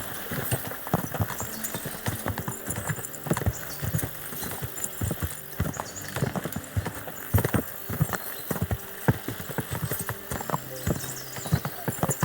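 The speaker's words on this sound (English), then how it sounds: "As soon as we cross the stream, we'll give the horses a gallop again." Horses gallop in Kingdom Come: Deliverance II with steady, rapid hoofbeats that continue for several seconds. Snorts and a whinny can be heard, and the scene has a busy, game-like sound.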